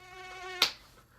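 A mosquito's thin, high whining buzz hovers close for about half a second, then cuts off with a sharp slap-like burst, followed by a quiet fading tail.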